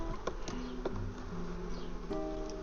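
Bees swarming around beehives at an apiary, a continuous buzzing drone of many insects close by, with steady hum layered with passing wingbeat tones throughout.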